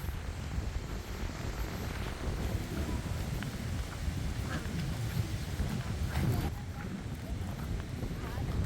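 Strong wind blows steadily outdoors near a rural house and rice fields, a broad rushing roar with gusts and scattered knocks, while people talk quietly in the background.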